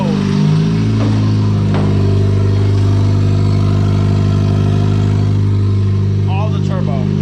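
A turbocharged 1.8T engine swapped into a VW Golf 3 runs loud and close, with a deep steady idle, revs and blips, and turbo whistle and chirps near the end, while people talk over it.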